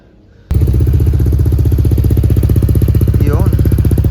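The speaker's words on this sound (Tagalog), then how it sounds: "start lang natin yung ating mga motor" A motorcycle engine fitted with a Samco radiator and coolant hose fires up after a quiet moment and settles into a loud, steady, close-up idle with a rapid even pulsing beat.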